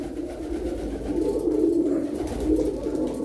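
An old pigeon coos softly and repeatedly, a low continuous burbling close by, steady throughout with no talking.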